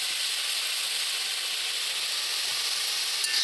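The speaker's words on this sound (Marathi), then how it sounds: "त्यानंतर नीट केलेली सगळी अळंबी त्या कांद्यामध्ये आपल्याला अशा पद्धतीने ओतून घ्यायची आहे." Wild mushrooms tipped into a pan of frying onions and chilies hiss and sizzle loudly and continuously, a dense steady frying crackle with no talk.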